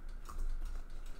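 Keys clatter on a computer keyboard in a short, steady run of close, quiet typing with no speech.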